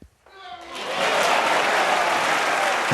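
A snooker crowd breaks into applause after a shot, the clapping swelling quickly from quiet into a full, sustained wash of hands that holds steady to the end.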